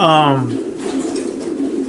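Racing pigeons coo in a loft, with a speaking voice over a low, throaty coo that rolls on beneath it.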